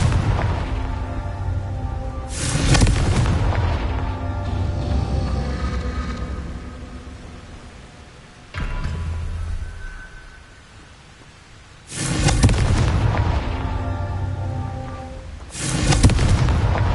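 Confringo fire spells cast in Hogwarts Legacy: several loud, booming explosions arrive in irregular bursts, each followed by a rumbling decay, with quieter spells of ambient sound between them.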